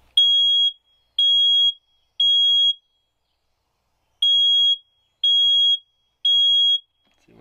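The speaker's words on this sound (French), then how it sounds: "ça c'est le détecteur de fumée" Smoke detector in a camper van sounding its test alarm: two groups of three piercing, steady high-pitched beeps, each about half a second long, with a clear pause between groups, loud and close, no voices.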